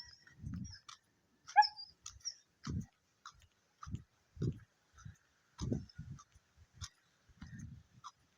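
A dog pulling on its leash outdoors, giving short snuffling grunts and breathy huffs at a steady pace, with a few high whimpering yelps near the start, fairly close.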